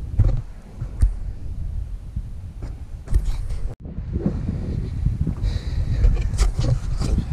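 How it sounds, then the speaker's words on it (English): Wind buffets the microphone outdoors in low, rumbling gusts during work on a 2004 Dodge Neon SXT, with a few sharp thumps and a brief dropout midway. "Might be a little bit more wind noise. It is a little bit windy"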